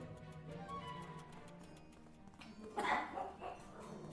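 Dogs bark faintly in the Aerea video game, with a few soft yaps and barks over a quiet, ticking background of game ambience and a brief louder burst near the end.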